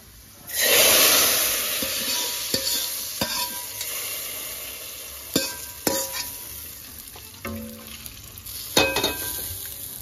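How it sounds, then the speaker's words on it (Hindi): Hot tadka with browned onions hits a pot of chana dal and bursts into a loud, sudden sizzle. The sizzle then fades into a steady frying hiss, broken by several sharp clinks of a stirring spoon against the pot. "देखिए हमने इसमें जो बघार लगा रही हूँ दाल में"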